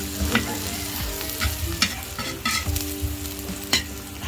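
Garlic sizzles and crackles in hot oil while being stir-fried for dinuguan, with repeated scraping stirs from a utensil against the pan throughout.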